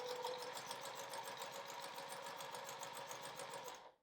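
Close, steady whir of a sewing machine stitching straight across a quilt block with a 1/4 inch presser foot, running continuously and stopping abruptly at the end.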